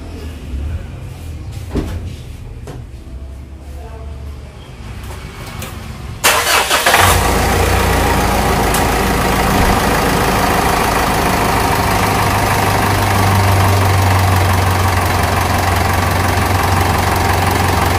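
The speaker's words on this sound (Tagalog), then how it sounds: "nakabukas na yung makina natin" A few seconds of quieter clatter, then a diesel engine being checked for blowby cranks and roars to life nearby, settling into a loud, steady rumbling idle.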